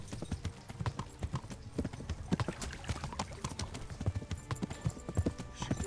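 Rapid, steady hoofbeats of a galloping horse in the video game Kingdom Come: Deliverance drum on continuously, moderately loud, with a brief snort or whinny mixed in.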